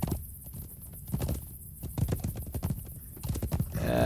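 Horse hooves clip-clop steadily in a brisk riding rhythm through a fantasy video game landscape, close and continuous, with a brief whinny-like tone near the end and no talk.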